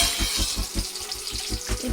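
Tempering spices sizzle and crackle in hot oil for upma, making a dense, continuous frying hiss with a quick, even pulsing pattern over the short stretch.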